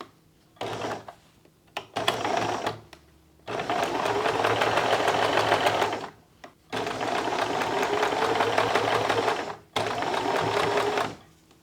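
A sewing machine stitches rows of a bear paw quilt block in several loud, close bursts of fast whirring, separated by short pauses.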